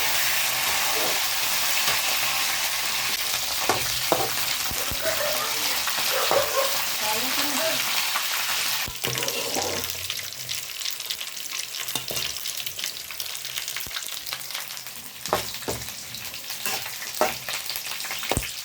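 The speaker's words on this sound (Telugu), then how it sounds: "ఇప్పుడైతే మేము కరివేపాకు వేసుకొని బాగా ఫ్రై చేసుకున్నాము" Curry leaves and garlic frying in hot oil for tomato chutney, a close, steady sizzle with stirring clatter and occasional sharp clicks of a spoon, the crackle fading partway as the frying settles.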